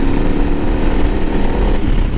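A 2017 KTM 1090 R motorcycle engine drones steadily under throttle while riding, loud and close with constant rumble and wind, no talk.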